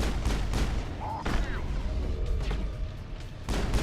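Weapons fire in the Mass Effect video game, rapid bursts of gunshots and booming blasts in quick succession, loud and close, with a voice talking over the combat.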